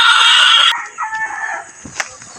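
Rooster on a farm crows loudly and close for almost a second, then chickens cluck and squawk in short bursts afterward, with no voices.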